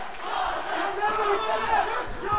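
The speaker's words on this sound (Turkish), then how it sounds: "Adem tezahüratları başlıyor." Arena crowd at a Sasan Aminzadeh vs Adem Bozkurt fight chanting for Adem Bozkurt, a loud sustained roar of many voices filling the space throughout.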